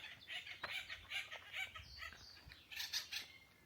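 Acorn woodpeckers near their nest in Oak Glen woodland call in a faint, distant, rapid series of repeated raspy squawks, with a few soft knocks and rustles in between.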